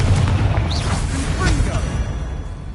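Booming, bursting spell explosions from combat in the video game Hogwarts Legacy, several blasts in quick succession over a dense low rumble, with faint talk mixed in.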